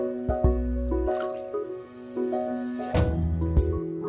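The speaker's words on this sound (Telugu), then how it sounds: "ఇప్పుడు ఏం చేద్దామంటే నీళ్ళు పోద్దాం" Water poured into basmati rice for paneer biryani, a few distinct bubbling, glugging drips and splashes in quick bursts, close and fairly soft, with no talk.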